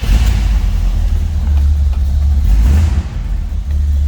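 A 1969 Buick Riviera hardtop V8 runs close and loud, a deep rumbling idle rising into a couple of throaty revs before settling back.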